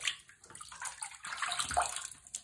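Water splashes and pours steadily while a three-legged cat is rinsed during a bath, close and continuous with a bathtub-like gurgle.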